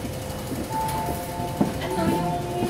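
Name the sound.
train running with empty carriage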